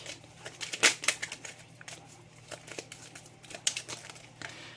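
Tarot cards are drawn and shuffled from a deck, giving close crinkly paper rustles and light snaps in quick irregular bursts, with a sharper flurry near the start and another toward the end.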